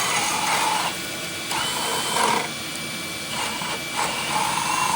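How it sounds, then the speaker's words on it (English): A power drill bores a hole for running a cable during a floating mantel build, its whine loud and close in several sustained bursts with brief easing between them. "Let's go inside and drill that hole."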